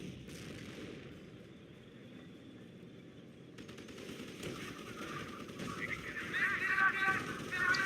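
Machine-gun fire and shots rattle through a Company of Heroes battle, faint at first and growing denser and louder toward the end, with voices over the combat.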